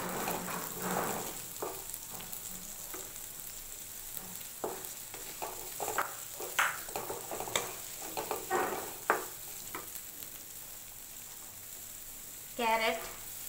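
Green beans frying in a pan for egg fried rice, a steady close sizzle with intermittent scraping and stirring clatters, a brief rattling tone near the end.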